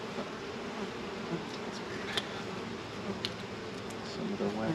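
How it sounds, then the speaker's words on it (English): Bees hum steadily inside a hive, a dense low buzz filling the whole stretch with occasional nearer passes and small clicks of hive parts. "there's some bees in here"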